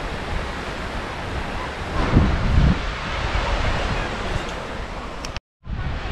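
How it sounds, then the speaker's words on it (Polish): Wind gusts across a beach in Gdańsk with a broad rushing roar and buffeting on the microphone, swelling briefly midway and cutting out for a moment near the end. "Wieterek wieje"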